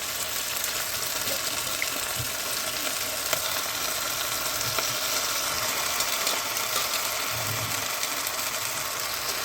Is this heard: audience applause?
no